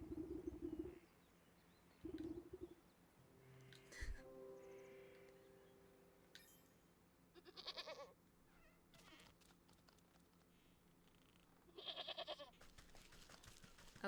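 A goat in the video game Wytchwood bleats several times, short nasal cries spaced a few seconds apart over a quiet game backdrop with faint chirps and soft tones.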